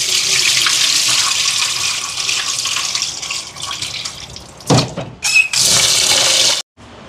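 Rice being washed by hand in water for Jaffna-style idli, a steady splashing, running-water wash with a few sharper sloshes and drips near the end, close up and with no talk.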